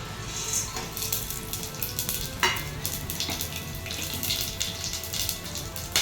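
Whole spices — cinnamon pieces, cloves, fennel seeds, a cardamom pod and star anise — sizzle steadily in sunflower oil inside a pressure cooker pan, a continuous close hiss with occasional brief crackles and no talking.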